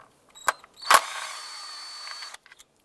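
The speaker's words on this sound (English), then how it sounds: "Next, we're going to use an 8mm socket and remove this right here." On a 2001-2007 Ford Escape, an 8mm socket on a ratchet loosens a stud near the ignition coils: a couple of sharp clicks, then a steady metallic creak and whir as it turns, followed by a few faint ticks.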